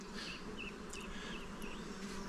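Honey bees swarm around an open hive during a shook swarm, their dense buzzing a steady, continuous drone close by with no other sounds.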